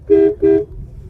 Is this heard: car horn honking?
yes